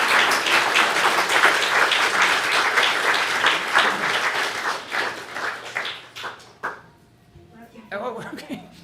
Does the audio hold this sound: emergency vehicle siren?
no